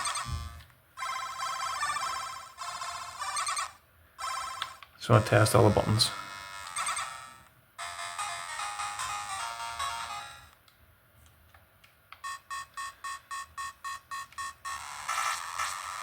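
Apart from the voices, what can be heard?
handheld video game console sound effects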